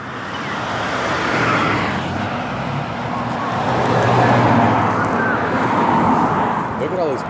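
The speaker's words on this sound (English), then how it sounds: "Look at all this fucking traffic." Road traffic at a five o'clock rush, a continuous broad roar of passing vehicles that swells and fades gently, heard close and steady throughout.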